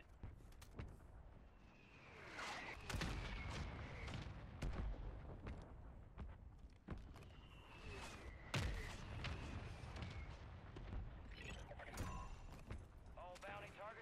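Mortar support strike in Warzone 3, with repeated booming explosions and sharp cracks spread across the clip at moderate loudness amid other battle noise and talk.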